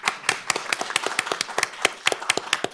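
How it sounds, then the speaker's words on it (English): A small audience at a board of trustees meeting gives a short round of applause, sparse individual claps at an uneven rhythm, fairly close. "I think that deserves applause."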